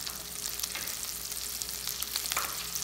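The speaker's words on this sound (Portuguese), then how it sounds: "Aqui, vou deixar fritar agora." Farofa ingredients frying in a generous amount of butter in a pan give a steady, bright sizzle with crackling pops, close and continuous with no talking.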